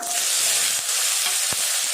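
Close, continuous sizzling of finely chopped onions and curry leaves frying in hot oil, a dense crackling hiss with a few small pops.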